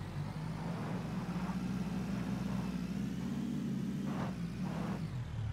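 A car engine in the game Knives Out drones at a steady low rumble while the car is driven, faint and even, with no talk.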